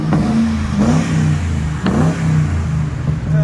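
A 2005 Ford Crown Victoria with the 4.6L V8 and a Flowmaster Flow FX exhaust revs close and loud, its deep burbling drone rising and falling through several throttle blips.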